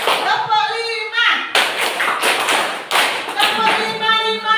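Fourth-grade pupils in a classroom clap together on a counted cue, several sharp clusters of claps breaking up a leader's spoken counting, close and loud.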